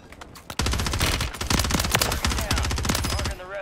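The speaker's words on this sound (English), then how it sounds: "I'm throwing a mortar over there." Mortar and gunfire in a video game, with a dense, near-continuous volley of loud, sharp gunshot-like blasts. The barrage starts after a brief quiet opening and keeps going to the end.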